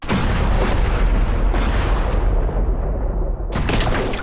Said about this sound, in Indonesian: udah gue pasang banyak sci-fi explosion